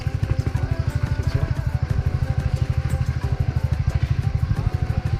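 A motorcycle engine runs steadily nearby, a fast, even, throbbing putter with a rattly edge that holds without a break, no talking over it.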